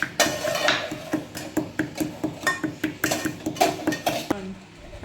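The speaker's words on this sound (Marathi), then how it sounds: "ती वेलची सोलून घेतलेली आहे ती आता थोडी आपण बारीक करून घेऊया" Rhythmic pounding of peeled cardamom with sugar being ground into powder, a steady series of about a dozen sharp, fairly loud knocks close by, stopping near the end.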